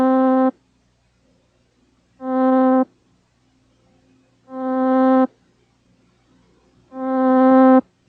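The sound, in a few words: synthesizer note with an added attack envelope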